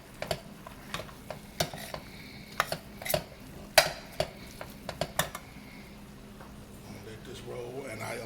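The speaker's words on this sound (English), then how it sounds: "you just want this meat to brown" Ground meat browning in a pan over a high flame while making homemade cheese hamburger helper, with steady low sizzling under repeated sharp scrapes and clacks of a utensil stirring against the pan.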